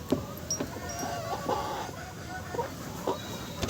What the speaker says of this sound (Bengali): তো কয়লার মুরগিগুলো দেখে দিই